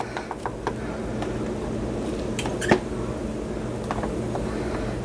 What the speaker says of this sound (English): And dish out 1 serving of rice,